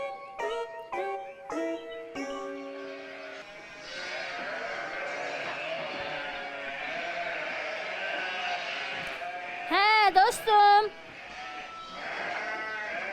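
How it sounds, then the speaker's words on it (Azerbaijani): Sheep bleat in a cartoon farm scene, a few loud close bleats near the end over background music, with a person speaking. "bu qoyunlar mənim qoyunlarımdır"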